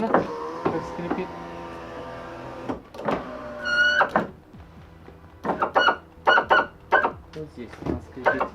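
Power window glass on a Nissan Almera N16 squeaks up close, sounding as a series of sharp, squealing scrapes and short bursts broken by soft thunks as the window moves.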